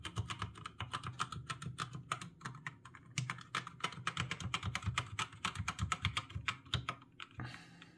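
Rapid typing on a Gamepower Suki TKL mechanical keyboard with black switches, a dense run of sharp, close key clacks in an uneven rhythm with a few short pauses, heard alone.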